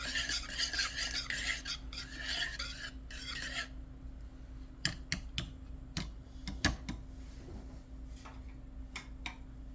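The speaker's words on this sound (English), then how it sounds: "Just kind of lightly whisk them" Eggs lightly whisked in a bowl for keto drop biscuits: a soft, rapid scraping swirl for a few seconds, then scattered light taps and clicks of the whisk against the bowl, with no talk.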